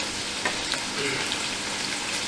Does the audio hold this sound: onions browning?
yes